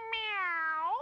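A single clear cat meow from a children's story tape, rising at the start and sliding down, with a drawn-out tone lasting about a second and heard up close and alone.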